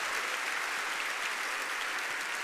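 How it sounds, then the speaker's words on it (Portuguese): A church congregation at a Baptist morning service applauds, a brief, even burst of many hands clapping, heard faintly from a distance. "Vamos aplaudi-lo."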